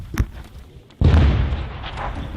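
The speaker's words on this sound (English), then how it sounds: "ISIS mortars explode nearby." Mortar shells explode close by during fighting for Raqqa: a small early pop, then a sudden loud blast that rolls on as a heavy, sustained rumble and roar.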